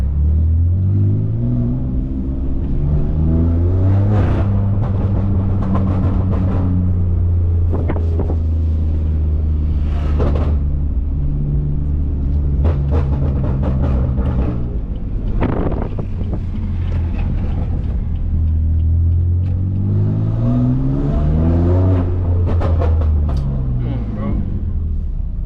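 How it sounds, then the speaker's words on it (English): A straight-piped 650 HP BMW F80 M3 rumbles with a deep, loud exhaust burble while driving, revs rising and falling in several swells against wind noise, with someone talking over it. "This joint sounds like insane, bro. This is like low burbles too."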